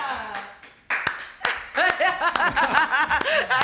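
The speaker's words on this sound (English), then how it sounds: "Let's keep the applause going." Live applause from a small club audience at a Bands Do BK show, scattered claps building into steady clapping mixed with whoops and talking voices over it.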